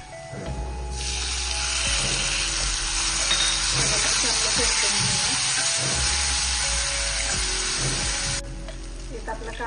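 Onion and tomato sauté in a pan for a vegetable korma, a steady close sizzle with stirring scrapes running throughout, no talk, faint water-like hiss near the end.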